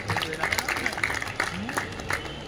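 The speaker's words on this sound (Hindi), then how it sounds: "एक जोरदार तालियों से उनका इस्तकबाल करते हैं।" Applause and clapping from an audience welcoming a guest at a felicitation function, steady and sustained with crowd noise throughout.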